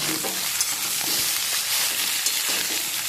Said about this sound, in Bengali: এগুলো সামান্য একটু লবণ দিয়ে নেড়ে নেব